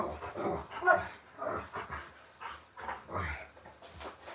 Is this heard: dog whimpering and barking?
yes